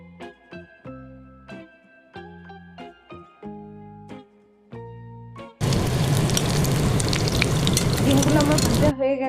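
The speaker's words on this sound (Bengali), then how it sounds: "সেই ব্যাটারে ডিমগুলো ডুবিয়ে একটু লালচে করে তেলে ভেজে তুলে নেব" Batter-dipped egg pieces for egg chili hit hot oil and fry with a loud, steady crackling sizzle, coming in after a few seconds of plinking melodic music notes.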